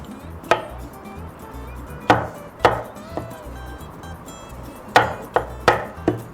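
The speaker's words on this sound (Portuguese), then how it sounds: "Ó, o tomate corta de tudo quanto é jeito" A knife chops a tomato on a cutting board in a home kitchen. Sharp, distinct knocks land irregularly, a few at first and then a quicker cluster near the end, close and fairly clear against a quiet room.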